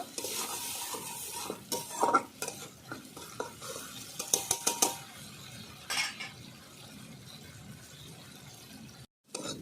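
Small tilapia fish being sautéed with turmeric powder and salt in a pan, soft sizzling under scattered scraping and clinking stirring strokes, quiet and close, ending in a brief pause.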